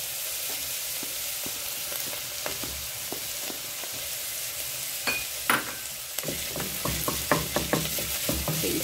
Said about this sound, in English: fry them together.